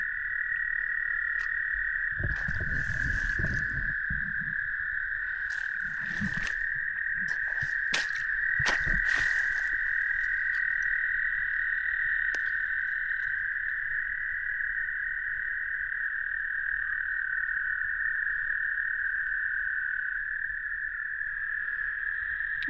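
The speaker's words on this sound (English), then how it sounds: "There's lots of frogs in here, but they're just not peepers." Wild frogs call in a continuous high shrill chorus, with a few louder nearby croaks and bursts breaking through in the first half before the chorus carries on alone.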